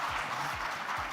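Studio audience at a televised political debate show breaks into steady, dense applause, a continuous wash of clapping that fills the whole moment without voices.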